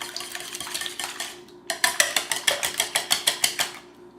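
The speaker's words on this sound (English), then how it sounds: "whisk just to break the yolks up." Eggs lightly whisked in a bowl for a breakfast casserole: a rapid series of bright, clinking metal-on-bowl strokes, brief at first, then about a dozen steady, evenly spaced taps, close and fairly loud.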